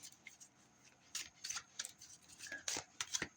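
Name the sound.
shuffling a deck of cards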